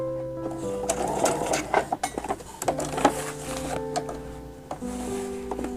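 A sewing machine stitches fabric along the presser foot guide with a quick, even mechanical whir, broken by short pauses and light clicks and clinks at close range.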